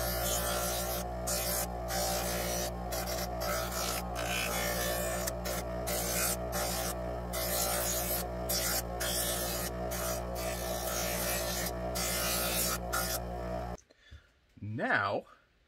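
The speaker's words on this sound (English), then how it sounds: "So I'm going to go ahead and just round this on the buffer." A bench buffer wheel runs with a steady loud motor hum and whir while rounding the edge of a holster for a Sig P226 with X300 Ultra, with brief rhythmic dips in level, then someone speaks at the end.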